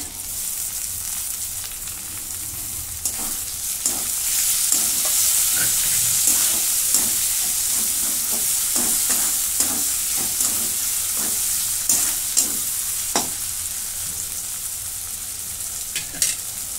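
Tomatoes sauté in a pan for chole with a continuous hissing sizzle, punctuated by repeated scraping taps as the mixture is stirred.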